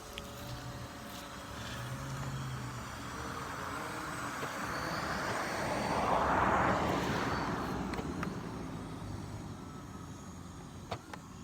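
A Vivitar 360 Skyview drone flies unsteadily on a rough first flight, giving a steady whirring motor drone that swells louder around the middle of the clip as it passes close, with faint outdoor background noise and no speech.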